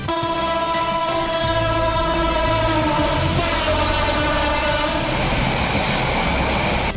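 A Bangladeshi express passenger train on the Dhaka to Chittagong route passes close by, loud and continuous, with layered tonal hum and whistle-like tones over rhythmic wheel clatter, no talking.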